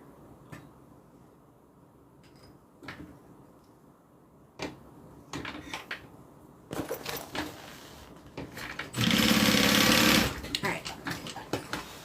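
Sewing machine stitching a reinforcing seam across small fabric pieces on a bag, heard close up. Clicks and handling noises come first, then a loud, steady burst of stitching that runs for a couple of seconds and stops.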